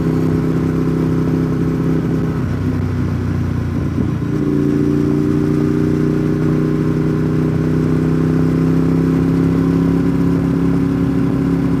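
Steady drone of a motorcycle cruising through the Smoky Mountains National Park, with a constant engine hum that shifts pitch slightly partway through as the bike changes speed, no voices.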